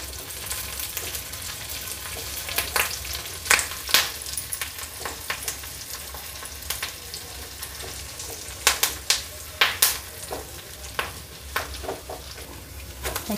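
Curry leaves sizzle and fry in hot oil in a pan, a steady crackling hiss with sharp pops and occasional clinks of a spoon stirring, close and continuous with no talking.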